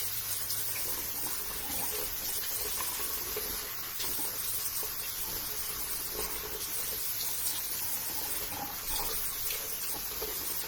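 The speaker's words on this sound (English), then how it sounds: "All right, I'm going to wash off my peel." Tap water runs steadily into a sink while a face peel is rinsed off, a soft continuous hiss and splash at low level with no talking.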